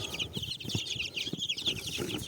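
Young chicks peep and cheep in a busy, continuous chorus of high chirps, close by, with a few low clucks and rustles underneath.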